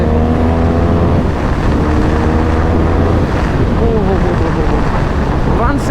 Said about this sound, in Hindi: देखो तो ज़रा बाइक और क्या चल रही है।